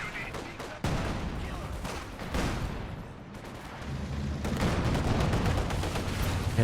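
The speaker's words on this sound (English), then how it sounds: "nice SU-26 barrage once again." An SU-26 artillery barrage in Company of Heroes 2 lands as a string of sharp booms and crackling blasts, several impacts in quick succession with rumbling debris between them.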